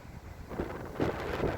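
Blustery wind buffets the microphone in a steady low rumble, with stronger gusts swelling near the end; no voices are heard.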